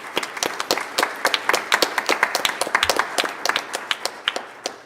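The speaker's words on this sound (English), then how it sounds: "So just a big round of applause for all involved." An audience at a healthcare conference applauding, a lively burst of many separate claps from a moderate-sized crowd, close and crisp, gradually thinning toward the end.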